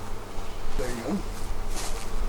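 Agitated honeybees buzzing loudly around an open hive while a new nuc is installed, a continuous close droning hum that swells and wavers throughout.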